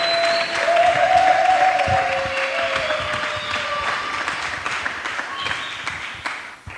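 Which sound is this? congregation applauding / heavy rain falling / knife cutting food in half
congregation applauding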